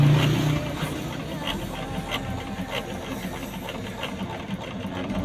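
A Janome NuiKiru sewing machine running steadily, a close, even mechanical whir with faint rhythmic ticking and no talk.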